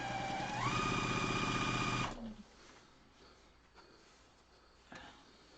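A sewing machine stitches quilt pieces, running fast and steady at close range with a rising whir for about two seconds before stopping, followed by quiet handling of fabric and a faint click.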